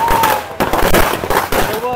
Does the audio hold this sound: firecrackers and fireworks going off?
yes